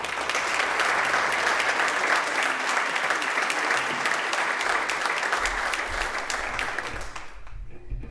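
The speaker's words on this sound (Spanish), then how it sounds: "Le damos un aplauso." An audience at an agricultural conference opening breaks into sustained applause as the regional agriculture minister takes the stage, steady and full, tapering off near the end as a voice starts to speak.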